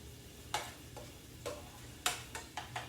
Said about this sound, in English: Saute up my garlic and my shallots